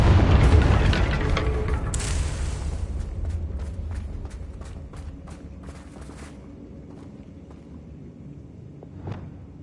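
A Confringo fire spell in Hogwarts Legacy detonates with one heavy boom at the start, then a long rumbling decay with scattered crackles and debris ticks fading out, no voices.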